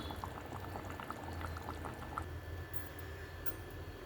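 Ridge gourd masala curry spooned from the pot into a serving bowl, a soft wet glopping and pouring of thick liquid with light bubbling, then a couple of faint clinks near the end.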